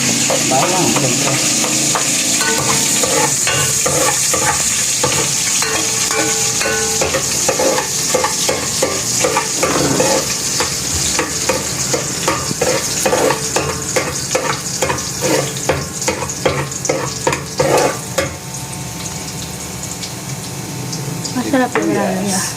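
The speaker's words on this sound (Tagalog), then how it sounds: "Magigisa na po tayo. Ang bawang, siyempre." Garlic sautés loudly in a pan for arroz caldo, a dense bright sizzle with constant stirring and scraping strokes that grow more rhythmic later, close up.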